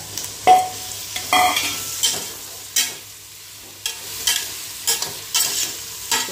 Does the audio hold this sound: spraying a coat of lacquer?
no